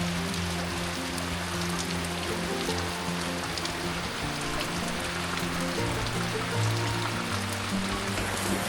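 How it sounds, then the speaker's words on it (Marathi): Steady rain falls continuously, a dense even patter on surfaces with some trickling water, unbroken throughout. "पण आहे पाऊस. एकदा का चालू झाला असा की मग तो येईल आता कंटिन्युअसली."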